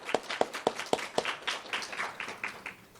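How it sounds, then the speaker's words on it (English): Audience applause at a keynote event in a library space, starting with several sharp, distinct claps and thickening into a softer, fading patter of clapping over about three seconds. "Let's give them a round of applause."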